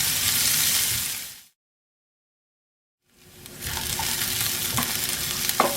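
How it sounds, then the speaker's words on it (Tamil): Onions, green chilli, ginger and curry leaves sauté in hot oil with a loud, close, steady sizzle that drops into a short silent gap, then resumes with a few scraping stirs. "நல்லா வெங்காயம் வதங்கிடுச்சு."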